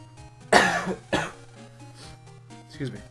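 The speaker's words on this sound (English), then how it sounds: "I'm probably gonna be coughing or sniffling in this video." Two sharp coughs close to the mic from someone who is sick, the second shorter, with a faint steady hum underneath and a small throaty sound near the end.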